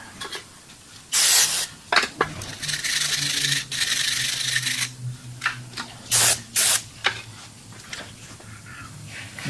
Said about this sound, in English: we're just going to go ahead and spray these two edges right here